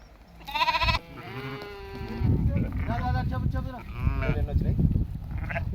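A flock of sheep and lambs bleat loudly and close by, one call after another, with a voice speaking among them.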